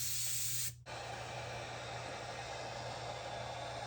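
An air gun nozzle held five or six inches back sprays a light dusting of gold paint, a steady airy hiss that cuts off abruptly and then gives way to a quieter, constant background hiss.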